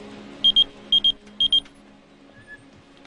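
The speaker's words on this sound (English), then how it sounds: "Luckily, the beeper worked." A pager beeper sounds three pairs of quick, high electronic beeps in an even rhythm, clear and close over a quiet background hum.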